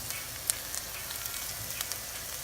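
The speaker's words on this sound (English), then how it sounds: "you can see your onions and your garlic actually cooking here" Onions and garlic sizzle softly in a hot pan while cooking pasta sauce: a faint, steady frying crackle with a few tiny pops, low in level and without talk.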